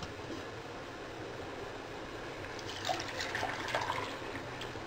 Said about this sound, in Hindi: तो अब ये पानी मैं इसमें निकाल देती हूँ।